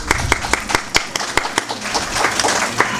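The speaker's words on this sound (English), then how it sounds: "why don't we give them a round of applause?" Audience at a cultural heritage literary festival panel claps for the guests, sharp individual claps standing out over a steady wash of applause.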